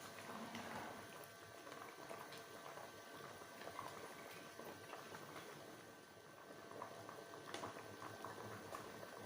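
Water bubbles and simmers steadily in a pot of green chickpea pulao with rice as the liquid cooks off, a soft, continuous, low-level boil heard up close with no talking.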